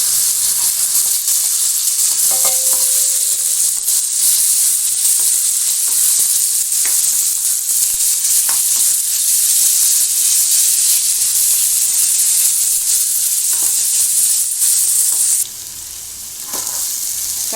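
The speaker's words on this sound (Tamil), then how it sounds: "வெங்காயம் நல்லா வதங்கட்டும்." Onions sauté in a pan with a loud, continuous sizzling hiss, joined by a few faint stirring clicks, before the sizzle drops suddenly near the end.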